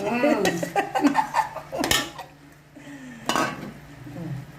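A utensil clatters and scrapes against a pot as jackfruit seed payasam is stirred, with a sharp clink in the middle, while people talk and laugh nearby.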